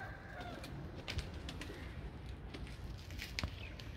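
Soft pigeon coos and a few wing flaps sound faintly over a steady background hum.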